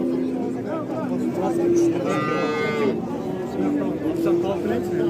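Cows moo in long sustained calls at the Ozgon livestock market amid cattle being priced for sale. Several close, loud lows follow one another over a constant background of crowd babble.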